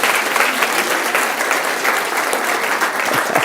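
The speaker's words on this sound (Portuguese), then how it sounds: "dê um aplauso forte para o Senhor Jesus." Loud, close applause from a church congregation, many hands clapping vigorously in a dense, continuous roar with no voices standing out.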